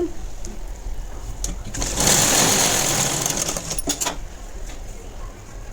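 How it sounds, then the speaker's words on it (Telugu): A sewing machine stitches a plain blouse with a close mechanical whir. The whir swells into a louder, faster run in the middle, then eases off, with small clicks around it. "ఇప్పుడు సెకండ్ పార్ట్ కూడా సేమ్ ఇంతే స్టిచ్ వేసుకోవాలి"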